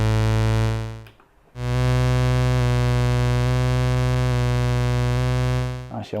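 Sustained buzzy tone from an Arturia MatrixBrute synthesizer with a soft wavering pulse from sine LFO modulation, cutting out briefly before resuming, close and loud.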